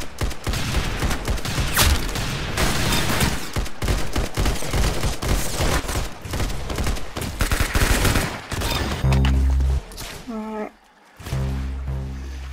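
Rapid bursts of gunfire in the Roblox game Arsenal, dense and loud, with fast repeated shots and a brief lull near the end; a player's voice talks over parts of it.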